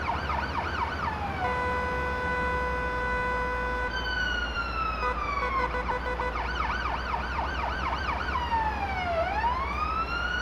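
An ambulance siren approaching through traffic, loud and close, cycling through a sustained tone, rapid warbling yelps and a sweeping wail over a low road rumble, with no talking.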